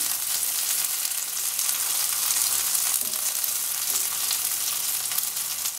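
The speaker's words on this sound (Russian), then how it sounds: "обжариваем недолго" Veal for Georgian chashushuli fries briefly in a pan, giving a steady, dense sizzle that holds evenly throughout with no voices.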